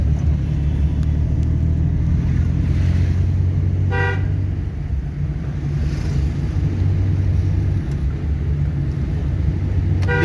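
Car in third gear during a driving lesson in Jaipur, a steady low engine rumble running throughout with a short horn toot from traffic partway through.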